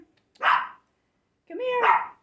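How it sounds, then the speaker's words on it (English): A small dog barks twice in a quiet room, two close, sharp yappy barks about a second apart, loud and alone with no other sounds. "That's how little dogs are. They are yipers."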